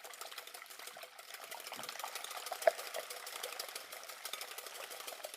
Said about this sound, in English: Always whisk your eggs first